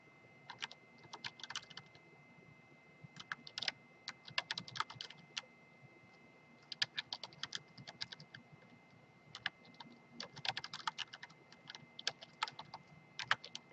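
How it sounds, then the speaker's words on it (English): Fingers type on a computer keyboard in quick, irregular bursts of clicks separated by short pauses, close and moderately quiet against a faint steady hum. "I'm going to go ahead and type these out"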